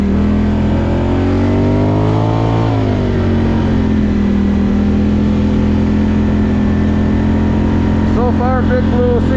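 A Polaris Scrambler 1000 ATV engine hums loud and steady while riding a snowmobile trail, its pitch rising and then easing into an even cruise, with a voice talking over it near the end.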